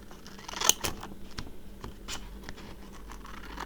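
Scissors snipping through fabric while cutting off the outside pieces of a sewn pouch, a few short crisp cuts close up in a quiet room.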